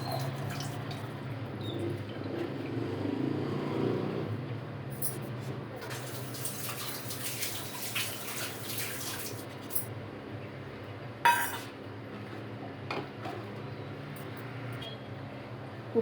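Tamarind water poured into boiling moong dal sambar in a home kitchen, a soft splashing pour followed by bubbling and a few sharp clinks of a utensil, moderately quiet with a low background hum.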